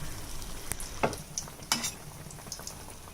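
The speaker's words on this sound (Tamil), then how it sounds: "இந்த ஆயிலை நீங்கள் ஊற்றிக்கோங்க பாருங்கள் இந்த அளவுக்கு குட்டி குட்டியாக பபுள்ஸ் வர அளவு" Oil heats in a pan ready for frying wheat-flour malpua, giving a soft, quiet sizzle with tiny bubbles and a few light clinks of a utensil against the pan.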